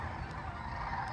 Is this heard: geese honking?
yes